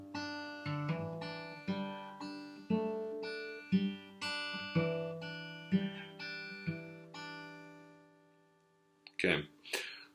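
Slow acoustic guitar phrase with hammer-ons from a song, a steady series of close, ringing picked notes at an even pace, ending with a short burst of handling noise.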